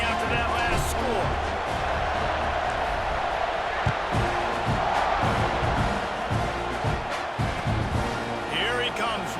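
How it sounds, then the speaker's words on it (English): Crowd noise in an EA Sports College Football 26 stadium between plays, with a steady broadband roar that swells slightly mid-clip, plus occasional thumps and commentary voices over it. "this crowd is buzzing after that last score"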